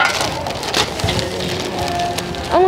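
Rain falling steadily at a market in Vietnam's stone plateau highlands, a loud, dense patter of drops on surfaces close by, continuous throughout with a few sharper splashes and clatters.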